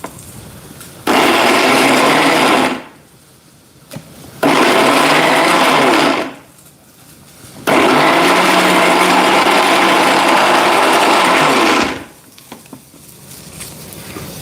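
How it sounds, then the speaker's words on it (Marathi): Kitchen mixer grinder blending a raw mango chutney mixture, three loud whirring bursts of a few seconds each separated by short pauses, with the rattle of the lid and jar in between. "आणि फिरवायचं मिक्सर"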